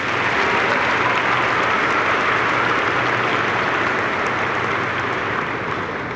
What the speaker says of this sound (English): join me in a round of applause for all of the Steinert staff members who are here